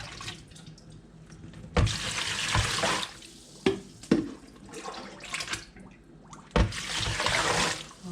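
Water runs from a tap in bursts while dried beans are strained for canning, splashing and trickling into a sink with several loud gushes separated by quieter drips and clinks.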